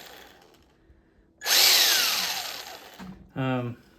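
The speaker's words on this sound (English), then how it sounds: "That actually sounds really good. The transmission seems to be in very good shape." A small electric RC car motor and transmission whir into a loud, high-pitched whine for about a second and a half, then cut off, followed by a short buzzing burst.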